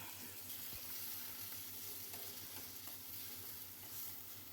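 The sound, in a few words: tomatoes, coriander and garlic frying in a pan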